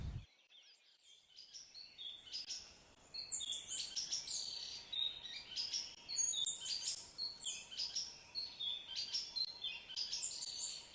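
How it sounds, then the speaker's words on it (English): Birds at Canopy San Luis in Costa Rica sing in repeated high, bright phrases, faint to moderate and overlapping, against a soft rushing forest backdrop with no talking. "Birds are a proof of the beauty of God's creation"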